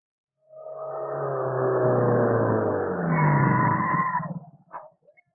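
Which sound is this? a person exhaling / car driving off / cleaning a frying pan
car driving off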